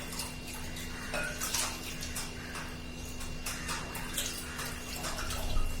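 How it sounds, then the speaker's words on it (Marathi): Raw mangoes are washed under running water, producing a continuous close hiss and splash with irregular brighter sloshes and small knocks as the fruit is handled, steady throughout with no talking. "मस्त आंबे आता स्वच्छ धुवून घ्यायचे"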